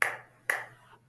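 Two sharp hand claps about half a second apart, close and crisp, each with a short bright ring, then quiet; no voices.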